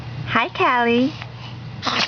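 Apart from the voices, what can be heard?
baby sneezing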